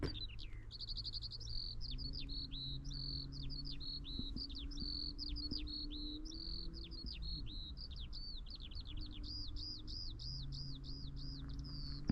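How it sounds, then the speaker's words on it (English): A skylark sings on the Dorset coast, a long unbroken stream of quick high chirps and trills heard at moderate distance over steady low wind and background rumble. "Walking the Dorset coast, serenaded by skylarks."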